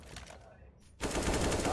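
Gunfire in the video game CS:GO on the Cache map, a sustained burst of shots erupting loudly after a quieter stretch and continuing dense and steady to the end.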